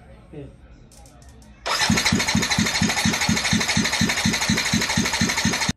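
A Yamaha NMAX scooter engine, just fitted with a repaired starter, cranks and catches after a brief quiet lead-in, then runs loud and close at a steady idle with an even, rapid pulsing rhythm.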